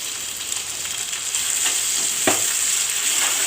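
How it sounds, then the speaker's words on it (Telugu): Ginger garlic paste frying in a pan, a steady close sizzle that holds throughout, with a brief scrape or stir near the middle. "అల్లం వెల్లుల్లిపాయ పేస్ట్ వేసుకున్నాం"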